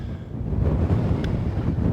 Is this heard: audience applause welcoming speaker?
no